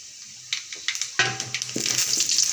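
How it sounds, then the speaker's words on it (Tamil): Chana dal and urad dal go into hot oil with popping mustard seeds, making a sudden sizzle that builds into a steady crackling fry with a few sharp pops. "இப்போ வடைப்பருப்பையும் உளுந்த பருப்பையும் போட்டுக்கலாம்."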